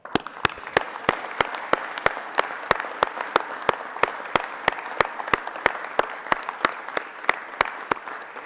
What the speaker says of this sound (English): recognize the family of Pat Teegarden with a round of applause